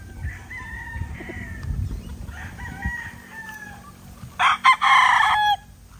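Young gamecock stags crowing close by, two or three hoarse, uneven crows followed by one loud full crow near the end, with faint clucking between.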